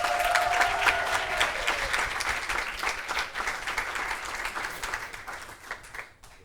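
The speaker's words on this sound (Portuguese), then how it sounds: "Uma salva de palmas para todos eles." Audience at the Caleidoscopio final in Macau applauding the winning teams, full crowd clapping that starts strong and gradually thins and fades out toward the end.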